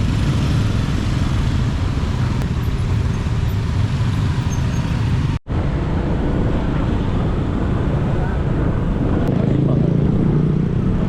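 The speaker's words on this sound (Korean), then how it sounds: "시티투어 할땐 무조건 오토바이 타야 됩니다" Steady engine roar of a motorcycle weaving through busy city traffic in Jakarta, Indonesia, loud and continuous with a brief dropout midway, surrounding vehicles blending into the drone.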